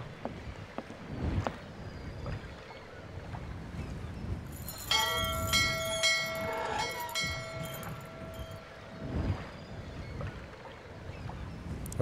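A bell rings in the adventure game Syberia to summon a valet, a bright metallic ring with sustained tones that sounds over a low background rumble, then fades away.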